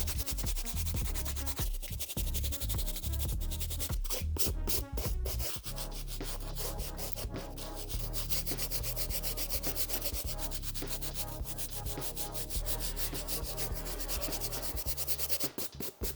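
A medium bristle brush scrubs worn Reebok sneakers in steady, close, rasping strokes, a continuous loud scratchy rubbing with a few brief pauses and knocks, and no talk.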